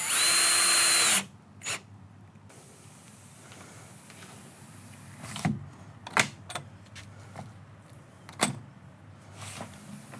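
Power drill driving stainless steel fasteners into a sliding glass door jamb, starting with a loud whine and followed by short, sharp bursts and clicks spaced out over quiet room noise.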